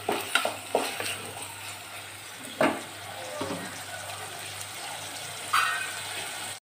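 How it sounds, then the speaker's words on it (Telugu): Onions fry in a pan for a boondi curry: a steady soft sizzle runs throughout, broken by a few sharp clinks of stirring at the start and middle, close and moderately quiet, with no talking. "ఆనియన్స్ కొంచెం ఫ్రై చేద్దాం."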